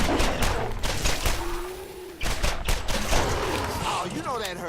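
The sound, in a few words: pistol gunfire at a skag in Borderlands video game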